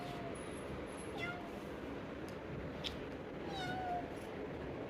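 A cat gives several faint, thin meows at a distance over steady background hiss, with a few short rising and falling cries spread through the clip.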